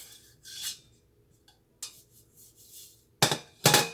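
A brush or hand rubbing grease around a cake pan for a Louisiana Crunch cake, heard as short scraping, rasping strokes against metal with pauses between them and two louder, harsher passes at the end.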